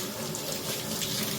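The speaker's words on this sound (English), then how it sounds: "for rinsing I prefer to have running water" Running tap water pours steadily into a kitchen sink while dishes are rinsed, a continuous close splashing hiss with no talk.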